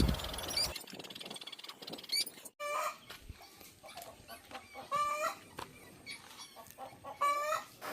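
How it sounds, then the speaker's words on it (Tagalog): Several chickens cluck and squawk in short, irregular bursts, fairly close, over a noisy background with a brief rush of sound at the start. "Ang ingay ng manok"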